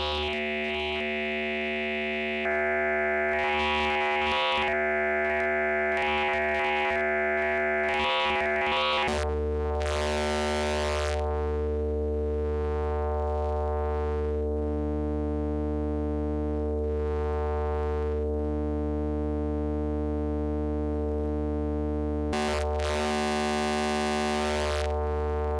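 Piston Honda MKII wavetable oscillator run as a wave shaper, its gain modulated by an LFO: steady synthesized tones with sweeping, pulsing filter-like swells that rise and fall slowly, loud and alone with no talking.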